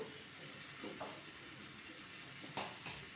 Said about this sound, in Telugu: ఇది బాగా వేగనిస్తాను ఇలాగా